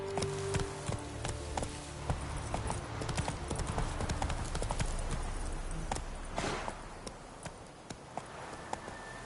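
Horse Roach from Witcher III gallops with steady, rapid clip-clop hoofbeats running close and loud throughout, with a faint voice in the background.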